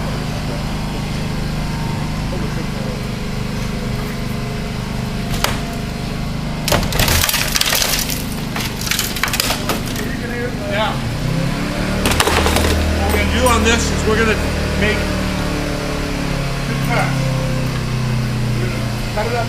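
A hydraulic rescue spreader works on a car body during first-responder training, its power unit droning steadily while metal and glass crack and splinter in sharp bursts, with people talking close by.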